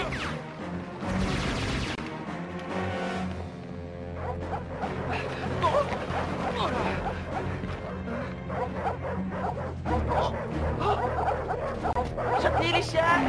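Dogs in a French cartoon let loose to chase someone down, barking, yipping and whimpering over busy music and crashes, with voices talking in between.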